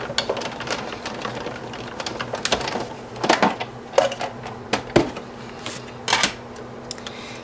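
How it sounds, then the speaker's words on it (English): A Big Shot die-cutting machine being hand-cranked with a cardstock and die sandwich, giving a run of close, uneven clicks, ratchety knocks and a few sharper snaps, with no voices. "we're gonna make our sandwich, and then we're gonna crank it through the machine"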